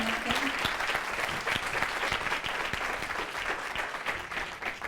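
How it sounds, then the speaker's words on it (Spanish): A church congregation claps loudly and continuously at a faith service, a thick, sustained burst of many hands close by, with a few voices mixed faintly into the applause. "Puede darle ese fuerte aplauso al Rey de Reyes."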